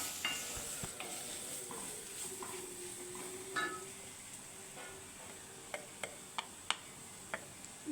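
Chicken cutlet masala with garam masala powder being stirred in a pan, a steady soft sizzle under a series of sharp spoon clicks and scrapes against the metal, several in a quick run near the end.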